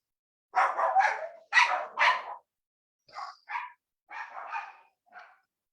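Several dogs bark in loud, overlapping bursts, two clusters of heavy barks followed by shorter, lighter yips, close by during a group meditation session with no one speaking.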